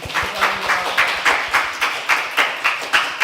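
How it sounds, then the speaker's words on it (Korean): A Korean church congregation at a Sunday service claps in a steady, even rhythm to welcome a newcomer, the claps crisp and regular, roughly three or four per second, close and with no talking. "우리 뜨거운 박수로 환영해 주도록 하겠습니다"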